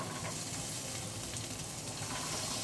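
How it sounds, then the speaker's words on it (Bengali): Beans and carrots fry in hot ghee in a wok, giving a steady, soft sizzle with faint stirring. It sounds close and quiet, with no voices. "2 চামচ ঘি কড়াইতে দিয়ে গরম করলাম। এবার সবজিগুলো ভাজবো। প্রথমে আমি এই বিনস আর গাজরটা দেবো।"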